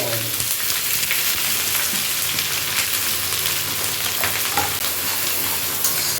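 Loud, steady sizzling of chopped onions frying in a hot pan with whole spices for chicken bhuna masala, a dense crackling hiss that continues throughout with faint stirring scrapes and no talking.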